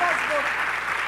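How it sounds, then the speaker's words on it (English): Brief burst of audience applause at a live conversation event in Pune, continuous crowd clapping with a voice faintly over it. "Big round of applause."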